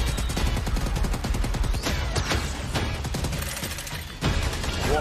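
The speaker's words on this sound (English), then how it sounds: "A grenade launcher." Rapid bursts of gunfire and blasts from a grenade launcher in Call of Duty Black Ops Cold War multiplayer, dense and loud throughout with sharp impacts layered over each other.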